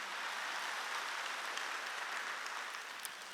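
Steady, moderately faint applause from a church congregation at a sermon, a dense unbroken patter of clapping lasting a few seconds with no voices over it.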